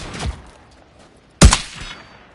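Gunfire in the multiplayer shooter Modern Warfare 3, two sharp, punchy shots with a short gap between them, the second louder and trailing into a brief echoing tail, with no talking.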